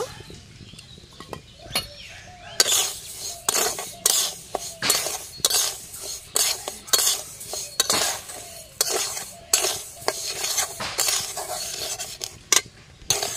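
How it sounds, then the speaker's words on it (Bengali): Sago pearls fry in a heated wok while a spatula scrapes and clatters against the metal in repeated, irregular strokes, close and fairly loud, with a faint background hiss and no talking. "সাবুর লুচি বানানোর জন্য সাবুটা ভেজে নেব"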